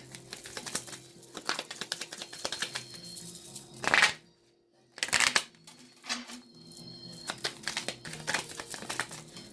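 A Kipper card deck being handled and shuffled close up, with rapid papery riffles and crinkly flicks in bursts, a couple of longer shuffling runs and a short silent pause between.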